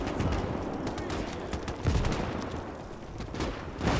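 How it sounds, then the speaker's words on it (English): Dense battlefield gunfire from the Gates of Hell video game, including a Finnish anti-tank gun firing amid steady rattling rifle and machine-gun shots, continuous and loud with a heavier burst near the middle and another at the end. "Finnish AT gun still working."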